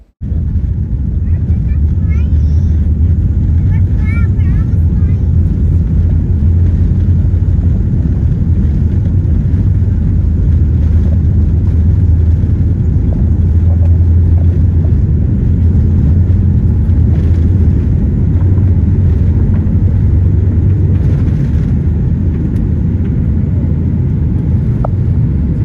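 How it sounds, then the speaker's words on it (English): Aeromexico Boeing 787-8 airliner on its takeoff roll down runway 05 right, heard from inside the cabin as a loud, continuous low engine roar and rumble that holds steady throughout with no voices. "Then we lined up with the runway and began the takeoff roll."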